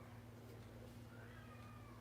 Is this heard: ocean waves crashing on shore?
no